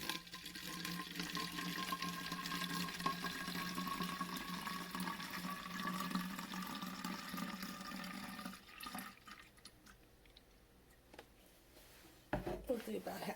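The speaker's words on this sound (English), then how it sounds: "See if you can hear me pouring it." Water poured from a bottle makes a steady, continuous liquid stream for about eight seconds, then stops, followed by quieter handling sounds and a brief clunk near the end.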